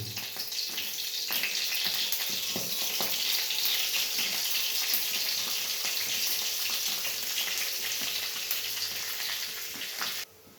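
Curry leaves, two dried chillies, whole cumin and a torn bay leaf sizzle loudly in hot oil, a dense, continuous crackling fry with scattered pops that stops abruptly near the end.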